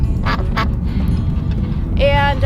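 A pet drake and other ducks quack near the ramp to their pen: a few loud, sharp quacks at the start and a longer quack at the end over background noise.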